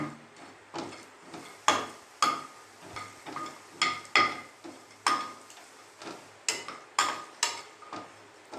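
Pistachios being stirred and roasted in a pan, with repeated scraping and clinking strokes of a spoon against the metal at a steady rhythm, close up with no talk.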